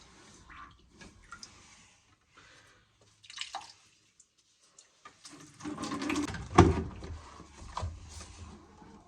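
Water sloshes and drips as a sponge is squeezed and worked in a bathtub to empty it, in bursts with short pauses, getting busier and louder toward the end.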